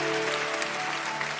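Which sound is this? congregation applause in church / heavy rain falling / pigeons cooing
congregation applause in church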